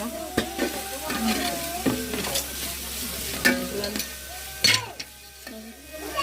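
Food sizzles and crackles in a hot pan while a spoon scrapes and stirs it in a steady, irregular rhythm.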